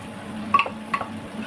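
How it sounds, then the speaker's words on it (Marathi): Cooked dal poured and stirred into a hot tempering while rasam is made, giving two brief scraping, clattering stirs against the pan over a soft, steady sizzle. "आता यामध्ये घालायचे शिजलेली डाळ"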